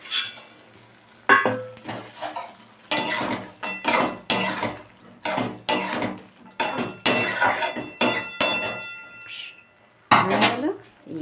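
Fried lentil dumplings (bori) go into a pan of vegetable curry with potatoes for a Bengali greens dish, giving repeated clinks and scrapes of a utensil against the pan, close and fairly loud, with faint sizzling between.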